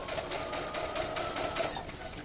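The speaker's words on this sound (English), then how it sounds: "and continue sewing" Home sewing machine stitching steadily through fabric after a corner pivot, a continuous even mechanical whir with rapid needle ticking, close and moderately loud with no talk.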